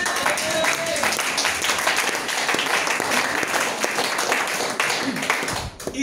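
A church congregation breaks into loud, sustained applause, dense clapping from many hands filling the room, with voices mixed in.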